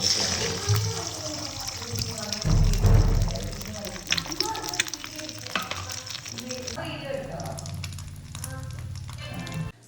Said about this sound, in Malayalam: അപ്പൊ ഞാൻ മുട്ട വറുത്തുകൊണ്ടിരിക്കുകയാണ് ഗൈസ്